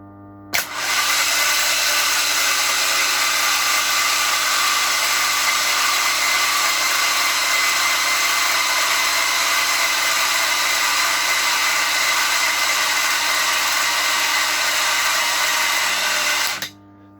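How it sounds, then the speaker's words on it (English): Ford Focus ST225 engine cranking over on a battery charger, a loud steady whirring drone that runs unbroken for about sixteen seconds and then cuts off. "Let's set you lovely people up so you can see this baby turning over"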